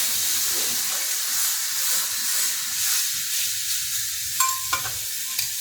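Beef pot roast sears in a hot pan with a steady, loud sizzle and hiss, broken by a few brief clicks and bumps as big tongs flip the large piece of meat.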